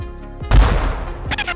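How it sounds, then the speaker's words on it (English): A 30x173 mm projectile strikes a concrete block with a loud, close, booming impact and a burst of crackling debris, followed by a sharp second report near the end. "The 30 by 173 millimeter projectile strikes the concrete block with overwhelming force."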